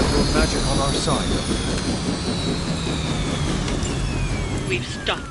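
Helicopter in a Marvel card video game, a loud continuous engine roar with whooshing passes and sweeping tones, layered with game effects and voices throughout.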